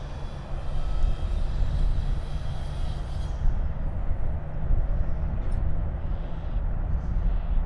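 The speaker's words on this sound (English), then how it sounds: "Next flight due in, Jetstar, flight 506 from Melbourne." A Jetstar passenger jet arriving at Sydney Airport makes a loud, steady engine roar that holds throughout, with broadband rumble and no talk.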